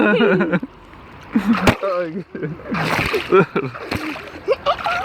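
Water splashes and sloshes in a backyard swimming pool while children and adults talk and laugh over it, with several brief splashy bursts scattered through the lively chatter.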